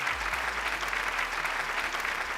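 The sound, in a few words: studio audience applause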